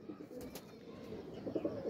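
Pigeons cooing softly at a rooftop loft, low rolling coos repeating through a quiet background with a faint wing flutter or two, fairly distant and gentle.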